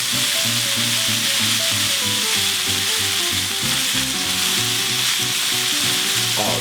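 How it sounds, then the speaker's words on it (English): Halved Yukon Gold potatoes landing in a hot pan, with a loud continuous sizzle and occasional stirring scrapes throughout, no talking. "So I'm just going to take these little Yukon Gold potatoes, cut them in half, and drop them in."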